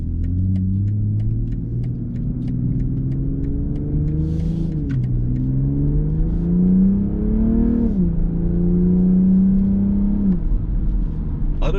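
A 2022 BMW M440i accelerates hard, its engine note climbing steadily through several gears with brief dips at each shift, loud and close throughout, with no talking.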